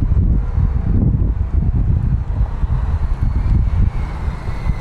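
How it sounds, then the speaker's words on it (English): Strong outdoor wind buffets the microphone during a small whoop drone flight, making a loud, continuous low rumble with gusty surges and no speech. "It's very windy right now."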